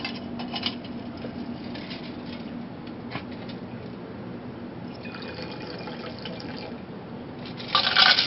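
Martini cocktail poured through a strainer, a soft steady trickle of liquid close by over faint background hum, ending in a short louder splash.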